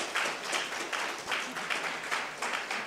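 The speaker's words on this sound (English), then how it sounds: "Another round of applause for Dr." An audience applauds a guest speaker, Dr. Anton Treuer, at an evening Encore Learning talk: steady, dense indoor clapping from many hands, moderately loud and continuous throughout with slight swells in intensity.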